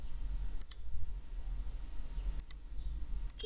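Mouse clicks on a computer while creating a new league in a Sports League Manager web app: three small pairs of sharp clicks spaced about a second apart over a low steady hum, with no talk.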